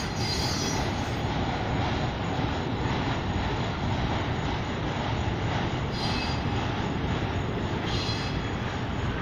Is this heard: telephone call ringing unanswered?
no